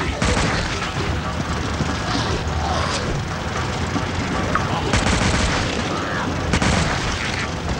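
Gunfire from the Dead Trigger 2 video game comes as dense, loud bursts of shots and booms layered with continuous game noise. A voice talks beneath the shooting.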